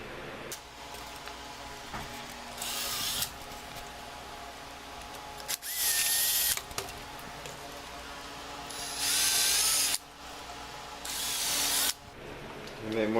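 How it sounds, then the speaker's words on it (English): A power drill pre-drills screw holes in a column beam support during assembly, buzzing in three or four short bursts of a second or so each, separated by quieter stretches of handling noise. "So, I'm going to go ahead and pre-drill these."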